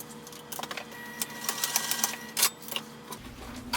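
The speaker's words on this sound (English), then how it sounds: "I'm just going to use a straight stitch and I'm going to go back and forth a few times" A sewing machine straight-stitches back and forth on a small fabric pouch, giving short bursts of rapid mechanical clatter with clicks and pauses between them, close and moderately loud.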